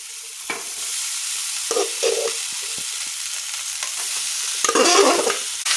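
Leftover rice with salt and coriander being stir-fried in a pan: a constant soft sizzle with intermittent scraping and stirring strokes that grow busier toward the end, close and alone without speech.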